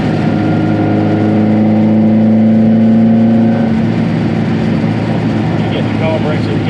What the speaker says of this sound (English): You get the carburetor, you get the induction noise.